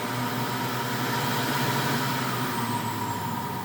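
A two-speed home juicer's motor runs at a constant pitch, a loud, steady electric hum with a buzzing whine that stays even throughout, with no voices.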